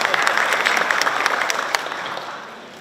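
An audience at an Eid al-Fitri halal bi halal gathering claps in a dense burst of applause that starts strong and gradually fades away over a few seconds.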